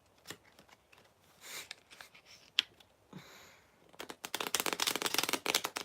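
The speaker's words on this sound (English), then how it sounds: "One more shuffle." Tarot cards are shuffled by hand. Sparse soft riffles and taps come first, then a dense, crisp flurry of rapid card flutters builds loud and close near the end, with no talking.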